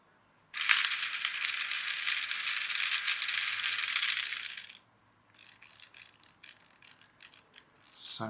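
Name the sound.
toy RC car motor spinning with broken gearbox gears crackling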